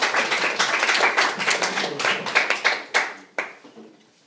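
A small audience claps in scattered, distinct hand claps that thin out and die away over a few seconds, fairly close and without talk.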